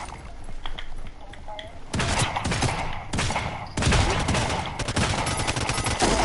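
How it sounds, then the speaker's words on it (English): Gunfire in a video game firefight: dense, loud fusillades of rapid shots in overlapping bursts, with heavy booms mixed into a constant roar of combat. "We're under fire."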